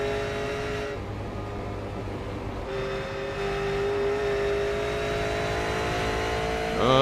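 Onboard sound of a V8 Supercar race car at Bathurst, a loud, steady, close engine drone holding a sustained pitch and rising in revs near the end, with no talking.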